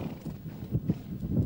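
Hooves of a Mongolian horse clip-clopping on an evening ride in the Gentii region, a steady rhythm of soft, close thuds repeating at an even walking pace.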